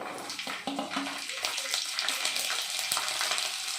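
Onions tossed into hot oil with chillies fried until blackened, for a Telugu festival chutney curry: a loud, bubbling sizzle with watery crackle and brief stirring, close up, no voices.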